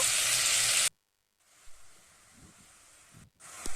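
Loud sizzle of water hitting a pan of oil-fried fritters for a pointed gourd curry, a burst that cuts off abruptly, then quieter bubbling with faint clinks before another sizzle surges at the end.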